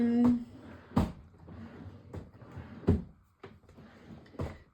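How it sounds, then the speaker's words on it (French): Drawers or cupboard doors being opened and shut in a craft workspace, several sharp wooden knocks and thuds spaced unevenly, close by, with a brief tone at the start. "Si j'ouvre pas les bons tiroirs, ça va pas le faire."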